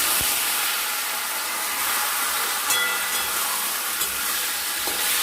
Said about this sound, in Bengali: মাছের মাথাগুলোকে আমরা লাল লাল করে ভেজে নেব।